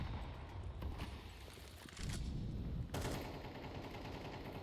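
Desert Eagle pistol fire in a Counter-Strike 2 match, heard as loud, dense gunshots layered with other game action and noise, with sharp bursts marking several shots.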